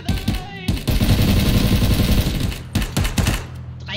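Gunfire in the video game Ring of Elysium: a sustained automatic burst followed by a few separate shots, loud and close, with voices talking over it.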